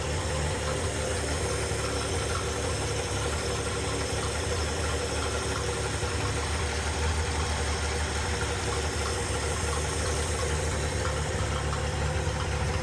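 A freshly rebuilt engine idling after break-in, a steady, even mechanical hum and rumble with a faint knocking texture, constant in level and close throughout, with no talk over it.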